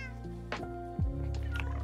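A cat in the Minecraft video game gives a couple of clear meows, close and moderately loud over a steady tonal background with no talk.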